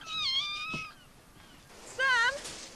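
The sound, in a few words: kitten meowing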